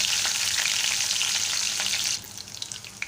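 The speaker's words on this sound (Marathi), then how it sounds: "मिरच्या घालणार आहोत आणि ढवळून घेणार आहोत" Green chillies and curry leaves sizzle in hot oil while being stirred for potato poha, a bright steady frying hiss with scraping stirs that drops off sharply partway through, leaving quieter crackles.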